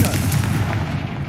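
Confringo spell blasts erupt in Hogwarts Legacy, a dense, continuous booming rumble of fiery impacts, loud and close throughout.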